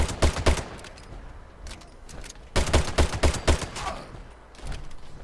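Crusader Pistol in Fallout 76, a Furious variant, firing in two short bursts of sharp, closely spaced shots with a quieter pause between them.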